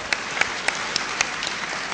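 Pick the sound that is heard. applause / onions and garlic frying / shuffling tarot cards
applause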